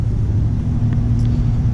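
A Nissan 350Z engine idles with a steady, low, close rumble as the car rolls into a shop, a continuous drone with no talking.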